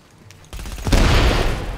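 Automatic turret gunfire in The Division, a burst of rapid booming shots that swells after a quiet start and keeps rattling loudly to the end.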